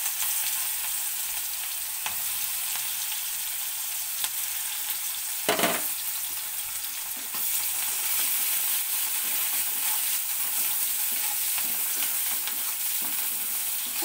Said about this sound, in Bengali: এর মধ্যে পেঁয়াজ দিয়ে দিচ্ছি।